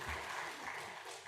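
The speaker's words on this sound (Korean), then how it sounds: "알아서 박수 쳐주셔서 감사합니다" Church congregation applauding during a Sunday worship service, a brief burst of dense clapping from many hands that swells and then fades slightly.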